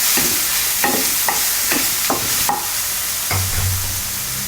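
Baby corn and vegetables are stir-fried in a pan over low to medium heat, with about half a dozen rhythmic scraping strokes over a faint sizzle.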